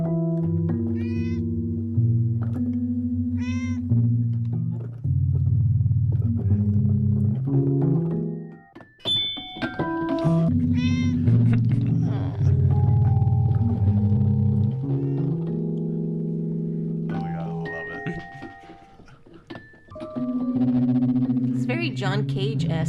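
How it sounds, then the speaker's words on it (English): A cat named Spook plays a Fender Rhodes 88-key electric piano, with sustained, mellow chords and scattered notes alongside occasional meow-like rising cries, with a couple of brief quiet gaps. "she's playing on the Fender Rhodes 88-key electric piano"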